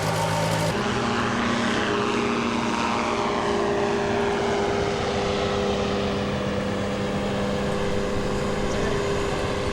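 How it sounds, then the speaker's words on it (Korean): A small propeller-driven surveillance airplane drones steadily in flight over the Kalimantan rainforest, its loud, continuous engine and airscrew hum filling the cabin without a break. "불법 벌목을 감시하기 위해 도입된 소형 비행기를 탑승해봤다"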